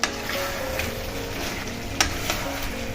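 A spoon stirs Murshidabadi chicken masala in a pan, with oil already separated from the spices, over a continuous close sizzle marked by a few scraping strokes.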